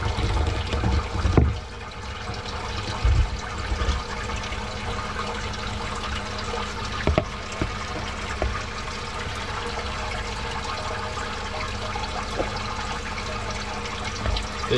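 Water drains from a Jebao CW-36 UV steriliser on a saltwater reef aquarium, flowing and trickling steadily, a continuous wet rush with a couple of brief knocks near the start and middle.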